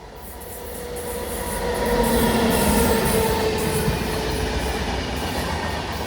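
The Netravati Express (Lokmanya Tilak Terminus to Thiruvananthapuram Central) rolls through the small Pallippuram station with a rising rumble, wheel squeal and clickety-clack, loud and close, swelling at mid-pass and holding steady.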